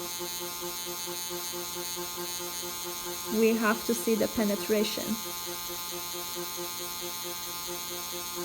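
A steady high-pitched electric permanent makeup machine buzz runs throughout, close and constant, with a person briefly speaking over it midway.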